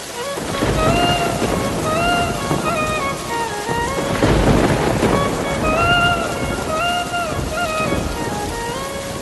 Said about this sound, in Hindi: रात बीत जाती है और बारिश बहुत तेज हो जाती है।